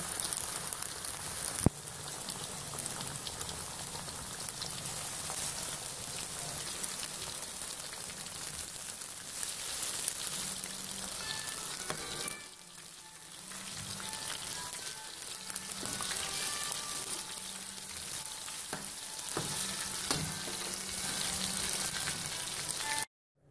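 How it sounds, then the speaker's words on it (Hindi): Pieces of rohu fish fry in hot oil until golden, giving a continuous, dense sizzle and crackle at moderate level, with faint clinks of utensils mixed in and no voices. "इसको मैं गोल्डन फ्राई होने तक फ्राई करूंगी।"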